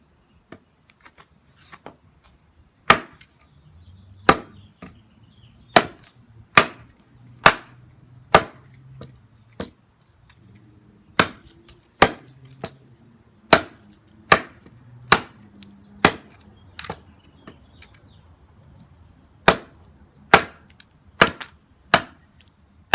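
A Knight Forge Elemental knife chops into hard pistachio wood in about twenty sharp, loud, cracking strikes spaced roughly a second apart with short pauses between runs, each blow ringing briefly and then falling quiet.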